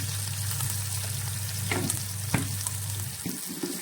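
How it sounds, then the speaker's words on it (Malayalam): Ground spice paste with turmeric fries in hot oil for a homestyle chicken stew, giving a steady close sizzle with a few scrapes and stirs near the end. "എന്നിട്ട് അരപ്പ് നന്നായിട്ട് ഈ എണ്ണയിലൊന്ന് മൂപ്പിക്കണം"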